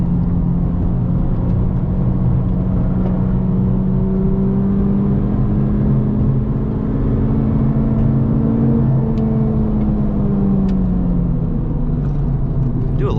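A Honda Civic Type R FL5 runs flat out on a race track, its engine droning steadily at high revs from inside the cabin, the pitch sliding up and down through a long pull before easing.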